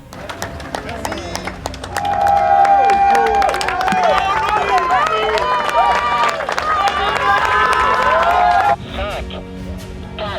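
A large crowd cheers and claps at the harbour as ninety solo Mini Transat sailors set off off the Vendée coast, a loud, sustained roar with music-like tones, dropping away near the end.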